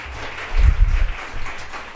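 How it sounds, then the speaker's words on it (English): Audience applause at a talk: a short burst of clapping from a crowd that swells and then settles to a lighter patter, heard alone with no voices. "We'll just give her a quick round of applause."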